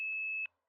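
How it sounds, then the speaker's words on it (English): A single electronic answering machine beep, a steady pure tone held for about half a second, clear and alone before silence. "Please leave your name, your number, and a brief message after the beep."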